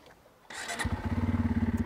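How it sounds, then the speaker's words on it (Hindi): A Bajaj Pulsar F250 motorcycle with a dual-barrel exhaust cranks briefly and fires up, settling into a close, steady, pulsing idle. "अब मैं भाई आपको स्टार्ट करके इस बाइक को दिखाना चाहूँगा"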